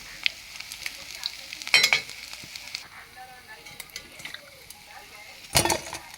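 Large pakoras frying in oil: a faint, steady sizzle with a few sharp clattering bursts as the fried pieces are scooped out.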